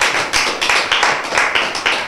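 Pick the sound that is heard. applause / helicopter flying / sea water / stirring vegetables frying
applause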